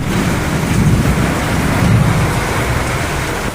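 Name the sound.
heavy rain with strong wind storm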